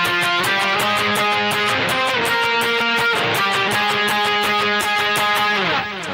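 An electric guitar plays a loud, distorted octave riff from a song's solo, with steady repeated chugging notes and shifting pitch, close and alone before ringing off at the end.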